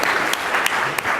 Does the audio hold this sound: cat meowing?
no